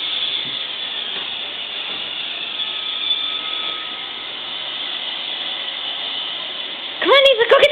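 A Roomba robot vacuum cleaner runs indoors with a steady whirring hiss of motor and brushes, close and fairly loud, ending in a short burst of clattering bumps.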